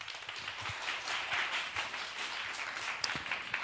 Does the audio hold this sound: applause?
yes